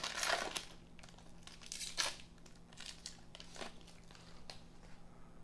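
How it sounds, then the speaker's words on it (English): Panini Contenders basketball trading card pack being torn open, brief crinkling foil rips and rustles up close, fairly faint, with the loudest tears near the start. "Oh, we only got one pack. This is a quick rip."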